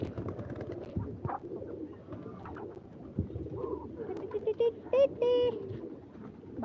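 Pigeons coo in a backyard kept with chickens and ducks, a few soft, rounded calls rising near the end over steady people talking and background hum.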